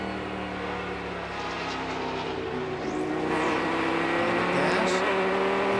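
Dodge Viper race car braking hard into turn 17 at Sebring during the Twelve Hours endurance race, a loud steady engine drone with harmonic tones shifting as it slows, recorded close and continuous.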